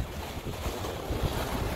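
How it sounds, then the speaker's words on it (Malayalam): A light wind buffets a small fishing boat at sea, making steady rushing noise with the gentle wash of waves and no voices. "ചെറിയ കാറ്റുണ്ട്, അതുകൊണ്ടൊന്നും അറിയുന്നില്ല."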